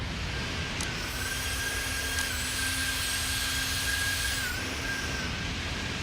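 Steady whine and roar of a Boeing 737-800 jet engine in Flight Simulator X, a constant cabin drone with a sustained tonal hum, running alone without voices.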